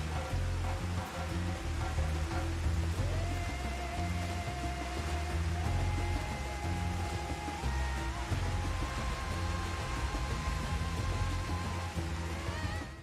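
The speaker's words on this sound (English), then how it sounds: "Listen to this rain sound." Continuous rain falls in the video game Final Fantasy XIV, an even hiss of water at steady loudness with faint tonal game sounds beneath and no talk.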